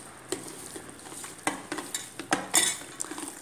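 Chicken coated with turmeric and chili powder is mixed by hand or spoon, giving soft, close, irregular squelching and light utensil clicks over a faint background hiss.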